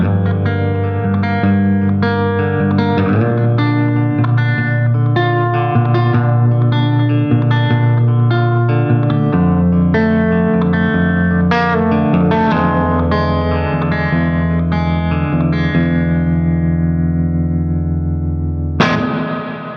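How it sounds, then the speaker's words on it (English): Distorted electric guitar through Guitar Rig 7 playing chords and notes, washed in reverb with a short slapback echo, ending with a sharp strum. "Lovely reverb on that"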